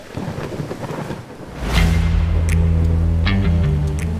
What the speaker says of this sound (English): waiting for the storm to move over, and the lightning and the hail